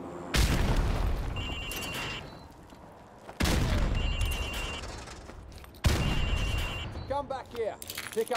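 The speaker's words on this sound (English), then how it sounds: "Pick up those frag grenades and get in the safety pit" Three loud frag grenade blasts from Call of Duty: Modern Warfare Remastered, each a sharp boom with a long rumbling tail, spaced a few seconds apart, with a voice speaking briefly near the end.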